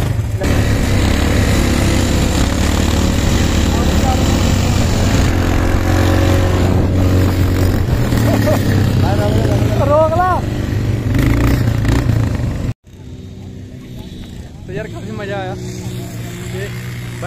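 Three rented bikes idle on a Dubai desert safari, their engines making a loud, steady drone close by that drops off abruptly near the end, with people talking over it.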